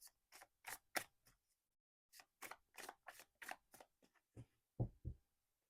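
Light Seer's oracle cards are shuffled and handled in a quiet room, making a series of soft, sharp snaps and clicks in two clusters with a brief pause between them.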